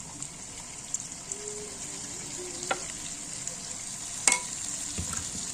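Onion, ginger, garlic, chili and cumin pastes with turmeric fry with onions in a pan, a steady close sizzle with occasional sharp clinks and scrapes from stirring, no talk.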